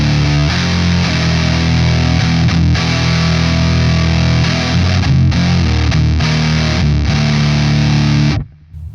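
A heavily distorted guitar through a Two Notes Le Crunch preamp plays thick, sustained doom-style chords with a dense fuzzy tone, loud and close, cutting off abruptly at the end.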